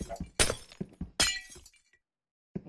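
A glass block breaks in the video game Minecraft, with a few dull taps followed by two bright, crisp shattering crashes, then a short silence and one more faint hit.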